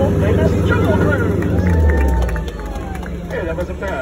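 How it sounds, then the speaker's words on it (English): A Jungle Cruise ride audience cheers and claps loudly after the ride, a dense roar of crowd noise and voices that dips slightly midway before swelling again. "put your hands together and give yourselves a big loud cheer"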